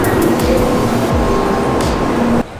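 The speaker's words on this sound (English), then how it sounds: "Welcome to the Shinkansen." Inside a Shinkansen bullet train, a steady rolling rumble and hiss fill the carriage, with faint rhythmic clicks underneath and a brief tone, cutting off abruptly at the end.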